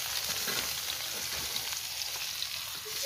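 Curry frying in a wok gives a steady, dense sizzle that runs unbroken at a moderate level close by, with faint scraping hints and no talk.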